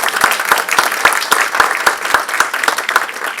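Audience applause at a dinosaur exhibit opening event, steady clapping from a crowd with sharp individual claps standing out, moderately loud and continuous throughout.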